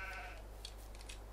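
Sheep in the farming game Landwirtschafts-Simulator 22 bleat faintly in a short burst, with a low steady hum underneath.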